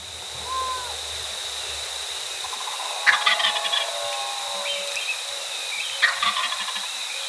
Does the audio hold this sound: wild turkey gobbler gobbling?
yes